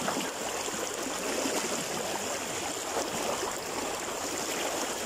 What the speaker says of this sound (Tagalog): Tingnan nyo naman kung gaano kabaskog ang tubig.